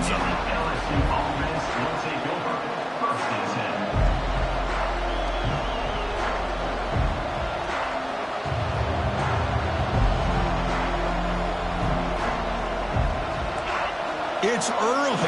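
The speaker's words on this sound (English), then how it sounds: "this crowd is fired up. Listen to this noise here." A fired-up high school football stadium crowd roars steadily for a defending-champion team's game, a broad, continuous wash of cheering with thumps and slams, under a commentator's talk.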